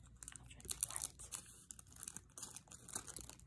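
A cheap plastic package holding rose earrings is cut open, giving close, irregular crinkling and crackling rustles with short bursts of tearing plastic and no talking.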